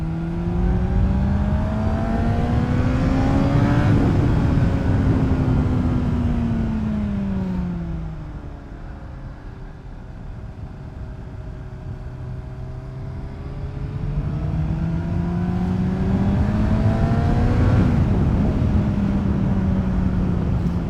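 A Honda CBR600RR PC40 600cc inline-four supersport motorcycle revs up high, drops back, then climbs again, its loud engine close and alone with no talk.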